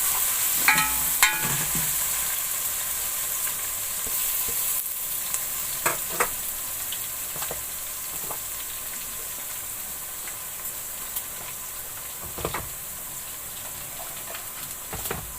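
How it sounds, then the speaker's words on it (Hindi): Garlic paste fries in hot oil with browned onions, giving a steady close sizzle under intermittent scraping and stirring clicks from a utensil against the pan, with no voices. "लहसुन को मैं थोड़ी देर भून लूंगी।"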